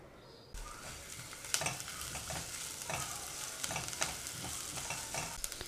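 Chopped onion, cheiro pepper and garlic sautéing in a pan, a steady sizzle with repeated scraping stirs of a utensil, moderately close and without talk.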